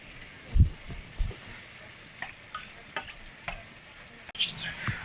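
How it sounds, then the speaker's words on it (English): Ground chicken stroganoff stirred in a pan on the stove, with a soft sizzle of frying and a few scraping utensil strokes against the pan, fairly quiet with no talking. "we're going to stir this in, and this is going to cook in here for another 2 to 3 minutes"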